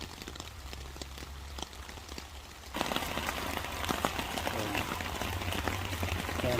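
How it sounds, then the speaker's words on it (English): Rain drums steadily on a tarp during an overnight stealth camp near an interstate on-ramp in a thunderstorm, soft patter at first, then a sudden heavier downpour that stays loud and dense to the end. "Rain on that tarp sounds nice."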